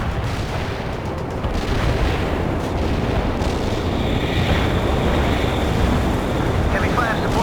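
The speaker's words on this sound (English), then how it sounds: "Launching a barrage" Rolling artillery barrage in the real-time strategy game World in Conflict, a dense continuous rumble of overlapping booms and low blasts filling the whole stretch, loud and unbroken.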